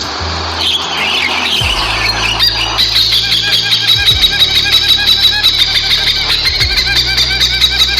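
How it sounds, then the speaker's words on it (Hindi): Hornbill calls sound as loud, harsh squawks repeating in a steady rapid rhythm, close and clear, with low thumping beats underneath. "This is a hornbill."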